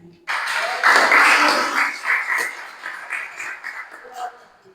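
Church congregation clapping during a family worship service, a sudden burst of applause that swells quickly and then gradually thins out and fades, with some voices mixed in.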